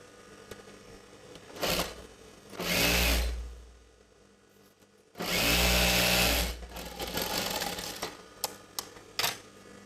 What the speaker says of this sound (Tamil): ஒன் சைடு தைச்சிருக்கோம், இன்னொரு சைடும் தைச்சிடலாம் அதே மாதிரி.